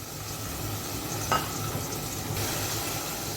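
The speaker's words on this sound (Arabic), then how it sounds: "هنزل بايه طماطميه مبشوره زي ما انتم شايفين كده اهو. اسيبها بس قيمه 10 دقايق بس على البوتاجاز" Grated tomato cooking in a pot on a gas stove, a short stretch of even, moderate simmering sizzle with a brief stir click partway through, no speech.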